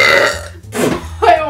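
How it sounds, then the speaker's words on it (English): A man lets out a long, loud, deep burp with two further guttural bursts, close and clear with no talking over it. "All of your subscribers will be jealous because they can't burp half as manly as I can."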